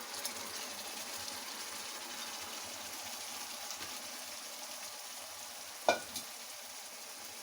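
Urad lentils fry in a masala base in a pan over a low flame, giving a steady soft sizzle, with a sharp scrape or clatter of stirring near the end.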